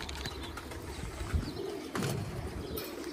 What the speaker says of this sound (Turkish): Pakistan yüksek uçucular. Aralarında birkaç tane farklı kuşumuz var.